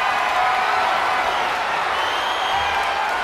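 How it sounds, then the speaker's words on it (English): Crowd noise from the video game WWE 2K24 during an elimination chamber match: a dense, steady roar of cheering and applause that holds at an even level for the whole stretch, with no distinct voices. "The crowd is fired up."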